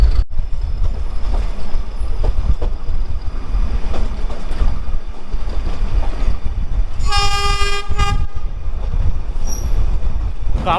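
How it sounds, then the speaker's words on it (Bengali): A train pulls out of a hill station near Ooty. A steady loud rolling rumble is broken by a sharp horn blast midway, with wheel squeal and a brief high tone later. "এখানে প্যাসেঞ্জার সেরকম ছিল না, একজনও ছিল না, তাই ট্রেন ছেড়ে দিল।"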